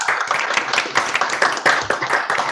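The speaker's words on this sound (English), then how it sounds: "big applause for you" A small group claps for a team member during an animation studio's weekly meeting, close and brisk, the individual hand claps distinct and irregular rather than blending into a wash.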